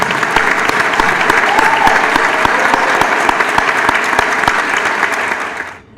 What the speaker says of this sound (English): Would you please join me now and actually give them a round of applause to show them what they've done